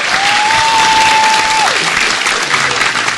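Studio audience applause for Deddy Corbuzier, loud and sustained clapping filling the whole stretch, with a brief steady tone gliding over it early on.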